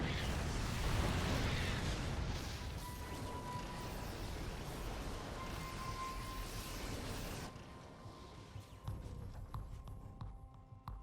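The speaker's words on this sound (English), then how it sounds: "The tank's shooting away." StarCraft 2 tanks firing in a terran-versus-terran match, a dense roar of booming shots and explosions that stays loud for several seconds, then thins into scattered impacts.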